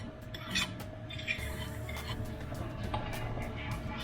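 Coconut santan and gula melaka being stirred in a cooking pot, with a steady low simmering background and a few light utensil clinks against the pot scattered throughout.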